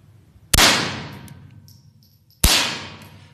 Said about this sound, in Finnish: Ammutaan välillä.